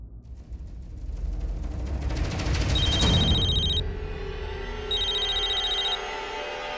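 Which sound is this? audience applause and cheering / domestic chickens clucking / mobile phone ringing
mobile phone ringing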